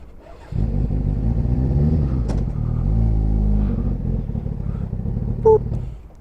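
A Kawasaki ZX6 motorbike engine idles at a fast-food drive-thru, starting up with a low steady rumble that holds close and loud, with a slight rise in revs and a brief click near the end.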